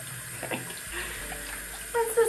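Water runs from a bathroom tap into a sink for rinsing, a faint, steady trickle with small splashes and a few louder gurgles near the end.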